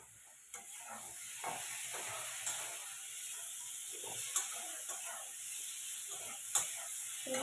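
Fried potatoes stirred into a bubbling fish curry masala in a pan, a soft steady sizzle and hiss with a few sharp clicks of a spoon against the pan.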